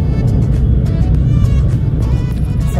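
A used car is driving along with a steady, close engine hum and a low road rumble from inside the cabin, with no voices over it.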